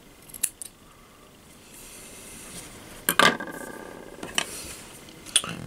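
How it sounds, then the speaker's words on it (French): Scissors snip through cotton wick on a Goblin Mini RTA rebuildable atomizer, a few crisp, close metallic cuts spaced apart, with one fuller crunching cut in the middle and light clinks around it. "Je cale mon ciseau ici et je coupe là."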